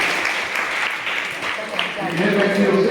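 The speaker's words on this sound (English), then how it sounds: "Let's have a big clap for that man." Audience at a farm show claps for a volunteer, a moderate ongoing patter of hands under a busy, echoing hall with some voices mixed in.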